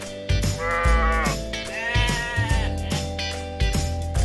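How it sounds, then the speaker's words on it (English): Sheep bleating on a farm, several wavering calls in close succession over about four seconds, loud and near, with no talking. "Sheep."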